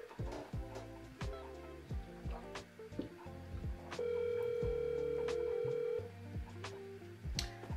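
A telephone call rings out unanswered, a steady tone burst repeating with a long sustained ring in the middle, set against background clutter and faint clicks, with no voice answering.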